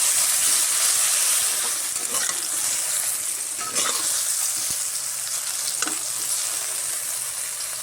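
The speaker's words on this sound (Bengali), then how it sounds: "নেড়ে চেড়ে ভেজে নেব।" Potato and eggplant fry with turmeric in a hot pan, producing a steady loud sizzle and hiss with occasional spatula scrapes as they are stirred.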